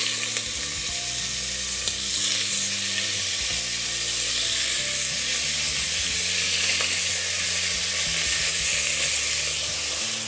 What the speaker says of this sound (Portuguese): Como que eu sei se minha panela tá boa? É necessário fazer esse barulho.